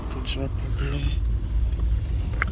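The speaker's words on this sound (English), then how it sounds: "Oh guys, I'm also driving today, so may I watch the road." A car driving on a road, its low steady engine and road rumble running continuously underneath someone talking nearby inside the vehicle.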